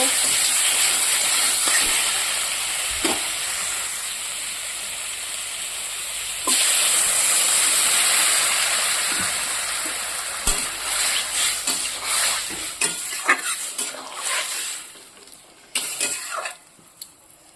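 Papad crisping in hot white oil gives a steady loud sizzling hiss for several seconds, then thins into crackling bursts and quieter gaps as the frying dies down.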